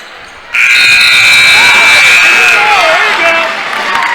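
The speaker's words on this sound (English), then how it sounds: "The buzzer beater attempt is no good" A loud, sustained electronic buzzer ends a quarter of a basketball game, blaring for about two seconds over a noisy crowd, which keeps cheering and shouting after it stops.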